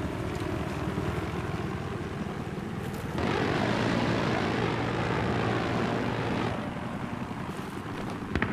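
In the video game Battlefield 3, a helicopter's steady loud rotor-and-engine roar swells louder midway and then eases back, with a constant mechanical drone.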